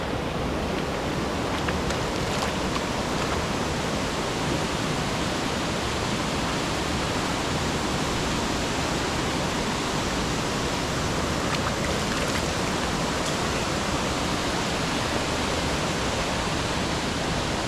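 A steady, loud rush of flowing stream water, like a stream running over rocks near Sakleshpur, continuous and unbroken with no voices.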